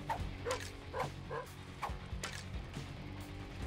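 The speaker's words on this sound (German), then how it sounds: "Der Doggo ist am Bellen." A dog in the video game The Binding of Isaac Repentance barks in a quick series of about five short, faint yips, followed by softer whimpering sounds under game noise.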